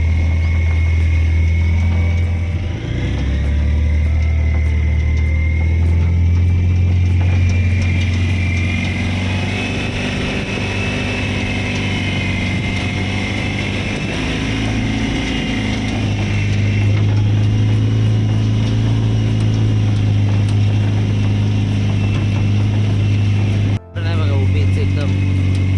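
A vehicle loaded with 14 sacks of paddy headed for the mill climbs an uphill slope in rural Konkan. Its engine drones low and steady, close by, as people talk over it.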